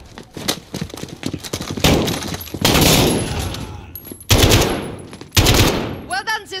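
Guards are ambushed with gunfire in Call of Duty: loud, close bursts of rapid automatic fire and rattling volleys, with several heavy sustained bursts in the later part.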